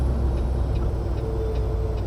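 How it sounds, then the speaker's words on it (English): A truck engine drones loudly and steadily from close by in the cab while the driver downshifts before a climb, with no talking. "You always want to downshift before you get up here"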